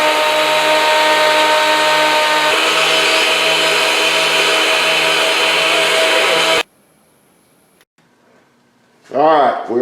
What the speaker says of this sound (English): we're fixing to do a little sawing.